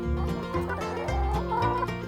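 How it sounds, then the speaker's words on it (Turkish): Chickens cluck and gobble in a rapid, warbling jumble of calls, close by and fairly loud, with no talking. "İşte tavuk."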